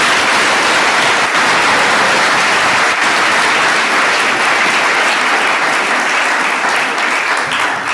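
Loud, sustained applause from a large audience after students' senior speeches, a thick, unbroken wash of clapping from start to end.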